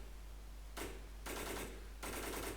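Automatic gunfire in the video game Infestation Survivor Stories, three bursts of rapid continuous shots separated by short pauses over a low constant hum, loud and with no talking.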